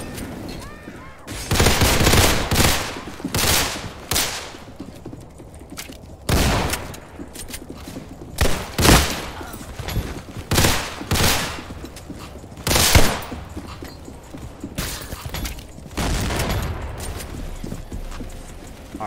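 Beretta pistol fire in the Roblox game Criminality, loud bursts of rapid gunshots in clusters, some single cracks, with game ambience between the volleys.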